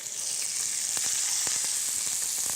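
Meat pieces laid into smoking-hot oil in a saucepan sear with a steady, close, bright sizzle, punctuated by a few sharp crackles and pops throughout.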